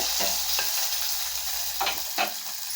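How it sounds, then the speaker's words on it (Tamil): Onion sautés with cumin, dried chilies and curry leaves for a beetroot masala curry, holding a constant, close sizzle punctuated by a few brief scrapes of stirring. "இது நல்லா வதக்கி விடலாங்க"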